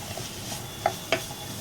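Kashmiri red chili powder being stirred into black chana frying in a pan, a soft steady sizzle with two brief sharp scrapes of the spoon against the pan.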